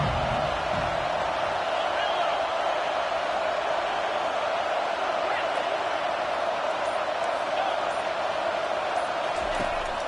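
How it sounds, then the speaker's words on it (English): The home crowd at a Tennessee vs Texas A&M college football game roars steadily during a third-down defensive stand. The noise is a loud, unbroken wash that runs throughout, with a commentator's voice underneath. "This home crowd as the defense tries to get off the field on third down."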